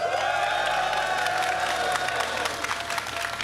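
An arena crowd at the Rocket League World Championship cheers, applauds and whoops for the team Wildcard in a sustained roar, with a steady tonal background underneath.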